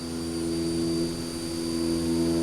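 A Haas Mini Mill 2 CNC machine cuts a slot with a 1/4-inch end mill spinning at 10,000 RPM, a steady high whine with a constant hum underneath, close and unbroken, no talk.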